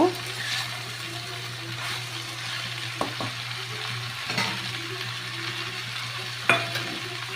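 Mustard seeds and slit green chilies frying in hot oil for a Bengali bottle gourd and prawn dish, a soft continuous sizzle with a few sharp clicks and spatula taps, close and fairly quiet.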